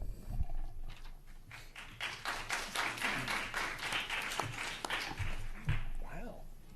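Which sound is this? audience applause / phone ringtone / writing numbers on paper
audience applause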